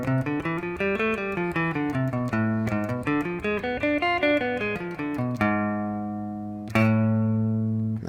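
Clean guitar plays a steady run of single plucked notes moving up and down an A natural minor scale, then rings out on sustained notes with a final struck chord.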